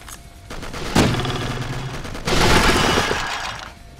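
Shotgun blasts boom in the fantasy shooter Will Rock, two loud sharp bursts with ringing tails, close and dominant with little else around them.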